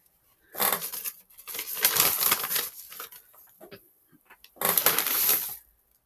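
Crinkly cutting and tearing noises in three bursts, crisp rustling snips of paper or packaging close up, with quiet pauses between.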